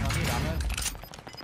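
A PPSh submachine gun from Call of Duty Vanguard, built for maximum fire rate and silenced, fires in a short rapid burst up close, fading within a second while someone talks.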